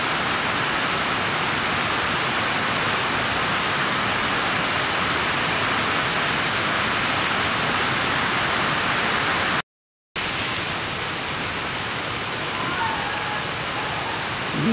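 Panas Falls, a mountain waterfall in Davao del Norte swollen after heavy rain, gives off a steady loud rushing roar that continues without a break apart from one very short drop-out.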